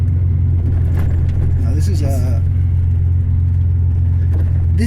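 A modified Porsche 930 Turbo engine pulls hard under acceleration, a loud sustained low drone with shifting pitch, while someone talks briefly over it from inside the car.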